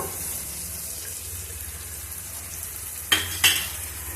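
Yogurt being stirred into potato kurma frying in a pan: a steady soft sizzle throughout, then two sharp scraping strokes of the spoon near the end, close and without talk.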